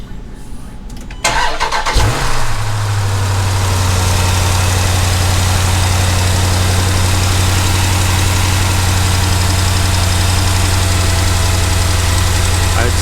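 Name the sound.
Jeep Grand Cherokee SRT 6.4 engine starting and idling, stock air box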